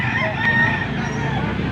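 Chickens and roosters at a busy Saturday poultry market crow and cluck over one another in a dense, steady chorus that carries close and loud throughout.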